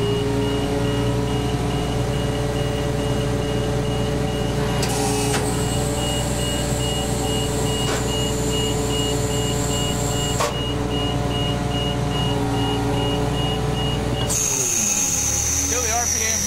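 Fire ladder truck with its engine running while the outriggers deploy: a steady diesel rumble with mechanical hydraulic whine, whose pitch shifts abruptly several times before a sharp change near the end, loud and close.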